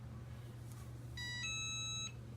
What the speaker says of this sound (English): it will beep once it's ready